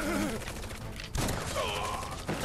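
Gunfire and combat sounds in the video game Final Fantasy 7 Remake, a steady rattling barrage with a sharp burst midway, fairly loud against a busy game soundscape.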